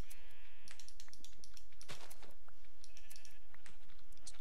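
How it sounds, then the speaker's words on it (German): Sheep bleating in the Minecraft video game, several short bleats scattered over a faint steady background, one louder call near the middle, no talking. "das Schaf, schwarze Schaf muss halt jetzt noch alleine bleiben"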